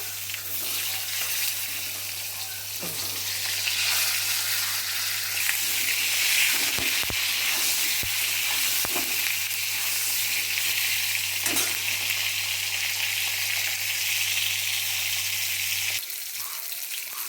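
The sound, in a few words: pointed gourd frying in oil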